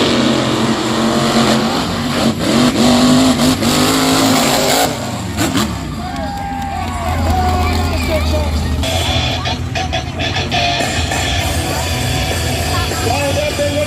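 Monster trucks accelerate from the start line at a show, with loud engine roar and tire noise. A crowd murmurs throughout, and the engines drop and swell again partway through.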